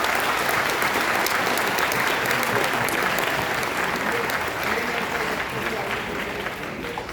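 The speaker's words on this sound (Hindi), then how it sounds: "इनके लिए एक बार जोरदार ताली बजा दो मेरा" Hundreds of students at an entrepreneurship conference in Bhubaneswar give loud, enthusiastic applause for 25 of their peers, a dense roar of clapping that holds steady before easing slightly near the end.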